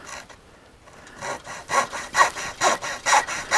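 A hand saw cuts into a wooden Harley Benton electric guitar kit body, with about eight rhythmic back-and-forth rasping strokes that grow louder and steadier, heard up close with no talking.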